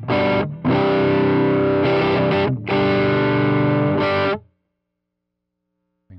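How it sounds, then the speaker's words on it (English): An electric guitar played through a Strymon Riverside drive pedal on its high-gain channel rings out in thick, distorted chords with short gaps between them. The last chord is cut off into silence. "So we're starting to get into some gainier sounds earlier here in the high gain channel."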